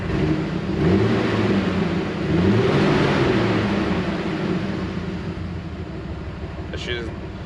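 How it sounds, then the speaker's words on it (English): Jeep engine running and idling rough, a steady low mechanical drone with uneven pulsing throughout, heard close up beneath someone talking. "She's definitely vibrating a lot and idling rough"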